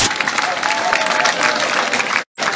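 A large audience at a political rally in Tabagne applauds loudly and continuously, a dense wash of clapping close by, with a brief cut in the sound near the end.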